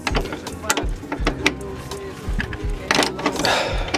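A wrench works loose a brake line fitting on a Nissan 240SX in the engine bay, with a run of close, loud metallic clicks and ratcheting clunks.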